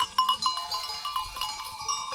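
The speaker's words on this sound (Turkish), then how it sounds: "Daha bu kuzu arkadaşlar." Lambs bleating on a hot, dry farm day, a few short bleats repeating close by over a steady background hum, with no talking.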